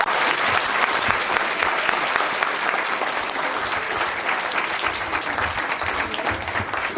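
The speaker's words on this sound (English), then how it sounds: "Please give this year's honorees a round of applause." Audience at the CoTHINKK Awards applauding the year's honorees, dense sustained clapping from a sizeable crowd, even and continuous throughout.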